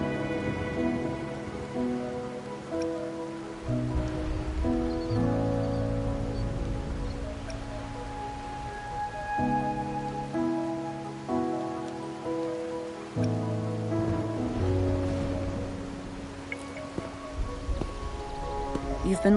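Night rain in the video game Wuthering Waves falls as a steady, even hiss of raindrops, mixed with sustained soft musical tones throughout.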